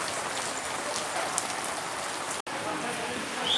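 Heavy rain pours down steadily on the Vaishno Devi yatra track at night, a dense close patter on surfaces that holds constant, with a brief dropout midway and a faint voice underneath.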